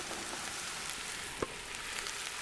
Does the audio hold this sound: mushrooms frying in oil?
yes